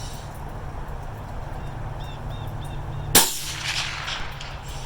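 A single sharp rifle shot fired at a steel gong 220 yards away cracks loudly once against a steady low outdoor hum, with faint bird chirps beforehand.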